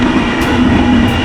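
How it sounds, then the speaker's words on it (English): A train rumbles past close by, a steady loud roar of rolling wagons with faint rhythmic clatter and no voices. "There's a train."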